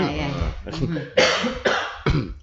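Several sharp coughs in a row, close and loud, mixed in with someone talking.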